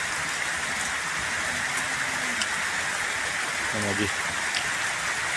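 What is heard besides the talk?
rain falling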